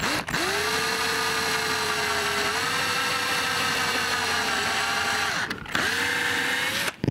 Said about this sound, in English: It's going to be real loud because it drills right next to the microphone.